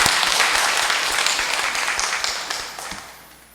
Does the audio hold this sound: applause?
yes